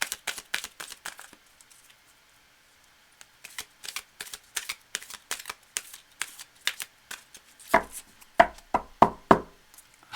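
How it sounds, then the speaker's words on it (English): A tarot deck being shuffled by hand, with bursts of crisp card riffles and taps close up, a quiet pause near the middle, then sharper louder snaps and knocks toward the end. "just as I finish the shuffle"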